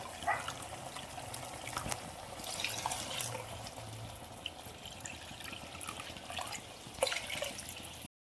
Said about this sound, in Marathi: आता त्याच वाटीनं आपण दीड वाटी पाणी घालून घेणार आहोत